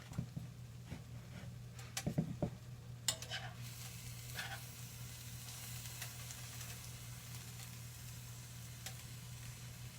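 Apricot stirred in a frying pan with egg fried matzoh, a steady soft sizzle with a low hum underneath and a few scraping clicks from the stirring early on, quiet and close.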